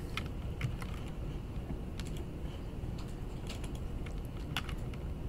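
Quiet clicks of keys on a PC keyboard, pressed in scattered pairs and short clusters for copy and paste shortcuts over a low steady background hiss.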